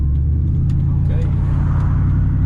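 A Ford F150 with a 5.4 engine and true dual exhaust gives a steady, deep rumble while driving, loud and continuous with no pauses.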